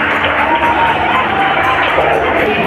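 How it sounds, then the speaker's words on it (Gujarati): Applause and cheering from a crowd at a school annual function as a prize-winning student is honored, a dense, continuous wash of clapping and shouting children close by. "એમના માટે તાળીઓ તો ચાલુ જ રાખશું."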